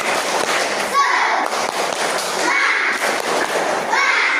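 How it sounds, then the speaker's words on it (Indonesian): A classroom of schoolchildren performs a rhythmic clapping chant, tepuk semangat, with loud patterned claps and thumps blended with their chanting voices, filling the room continuously. "ayo kita tepuk semangat"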